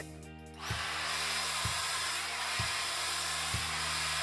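A hair dryer blow-drying a man's short hair, switching on and then roaring steadily up close with a constant whooshing airflow and a faint rhythmic thump about once a second.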